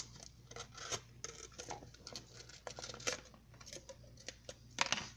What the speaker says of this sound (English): for the second bottle you want to cut, and I'm using a razor blade, you want to cut the bottom off